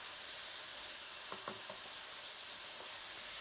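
Lamb liver frying in ghee with fenugreek, a dense continuous sizzle with a few brief clinks of stirring near the middle, faint and without talk.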